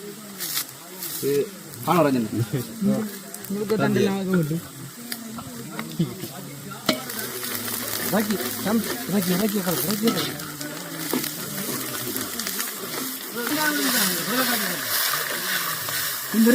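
Curry leaves and fenugreek sizzle and crackle in hot oil as they are stirred in a pan, cooked outdoors in a forest for a temple feast. Loud, close spitting and scraping continues while people talk nearby.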